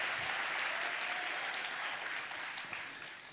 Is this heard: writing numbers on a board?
no